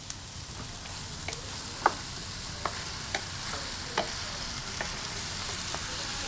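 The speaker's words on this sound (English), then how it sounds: "we're gonna add our Hunt's Petite diced tomato." Hunt's Petite diced tomatoes hit a hot pan with a steady, close sizzle and fry, broken by a few sharp spoon clicks and stirring scrapes spread across the stretch, no talking.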